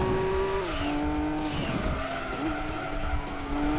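Race car engine revving hard with shifting pitch and repeated tyre skids at Laguna Seca in the Gran Turismo 2 video game, loud and continuous throughout with no talk.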